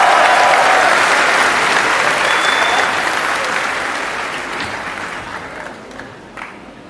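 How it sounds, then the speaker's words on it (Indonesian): Sustained audience applause at a public Q&A event in Yogyakarta for a 15-year-old junior high school girl, loud and dense at first, then gradually thinning and fading over several seconds with no talk. "Boleh dong kasih tepuk tangan yang meriah buat Zia."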